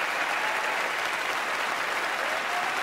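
A theater audience applauds in a dense, steady wash of clapping that holds evenly loud throughout, with no clear voices standing out.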